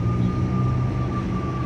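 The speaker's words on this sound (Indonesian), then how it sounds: "Wah, ada pesawat guys." An airplane drones steadily overhead as a continuous low rumble with a faint steady tone, heard from a tall building near the sea, no talk.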